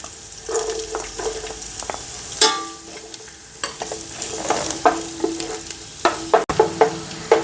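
Garlic and then ginger fry in hot oil for chicken fried rice, stirred briskly in a pan. A close, steady sizzle runs throughout, punctuated by frequent quick scrapes and taps of the spatula against the metal.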